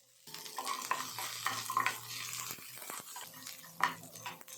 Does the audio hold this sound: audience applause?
no